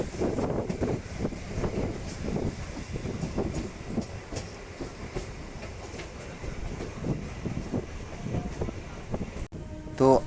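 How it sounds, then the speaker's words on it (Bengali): A Bangaon–Ranaghat local train pulls out of Majhergram station, heard from on board: steady wheel clatter and rumbling carriages under wind noise, with rhythmic clicks recurring through the ride. "তো আমাদের ট্রেন মাঝেগ্রাম স্টেশন ছেড়ে চলেছে তার পরবর্তী গন্তব্যের দিকে।"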